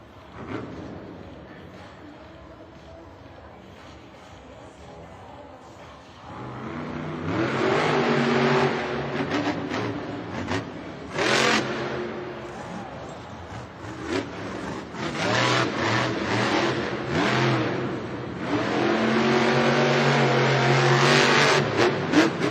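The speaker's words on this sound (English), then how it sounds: "up next it's John Zimmer Sr. in Zombie. He's even doing it in the truck too" Monster truck Zombie at a Monster Jam stadium show in St. Louis, its engine revving hard in repeated surges after a quieter opening, loud and sustained with a roaring crowd blended beneath.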